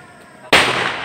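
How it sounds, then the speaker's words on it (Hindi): A loud firecracker bangs suddenly after a quiet moment during Diwali outside a Kali temple in Araria, its crackling burst lingering and filling the rest of the clip. "पटाखा बज गया"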